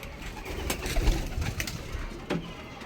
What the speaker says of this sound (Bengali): এটা হচ্ছে রেগদার পায়রা